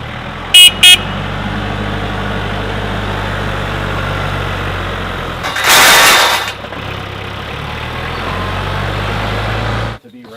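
A tractor engine idling steadily on a farm, a low continuous rumble close by, with two short horn-like beeps near the start and a louder surge midway before it cuts off near the end.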